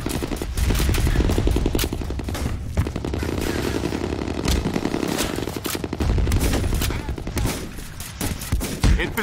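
Rapid gunfire in the multiplayer shooter game F.E.A.R. Combat during a capture-the-flag match, loud sustained automatic bursts with clattering shots, close and continuous for several seconds with brief game voice callouts.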